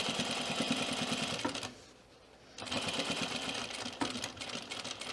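A sewing machine runs steadily while stitching a fleece pullover collar straight over vertical pins, pausing briefly in the middle before resuming its close, continuous whirring.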